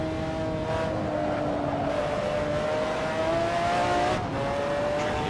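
McLaren F1 GTR race car in Assetto Corsa, its engine droning steadily at high revs with a smooth, sustained tone, pitch easing and then rising again as it runs alone without talk.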